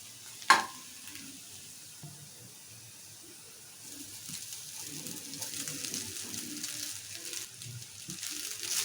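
Cooked rice stirred into a fried peanut mixture in a pan, a sharp clink near the start, then quiet scraping that builds into a soft, continuous sizzle and stirring rustle, nearby and fairly faint.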